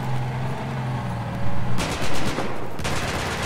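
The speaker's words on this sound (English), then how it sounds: "the machine gun's not going to do anything" Rapid machine gun fire in the video game Battlefield 4 during a capture-the-flag match, sharp sustained bursts that start partway through and continue loudly to the end, over a rumbling game background.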